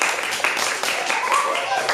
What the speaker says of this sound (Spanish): un aplauso a mi amiga Chloe, la tenista